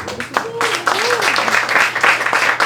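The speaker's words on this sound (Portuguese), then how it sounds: "Uma salva de palmas, gente." A crowd at a panel discussion at Casa da Favela in Rio bursts into applause, steady clapping filling the space while a voice rises and calls out over it.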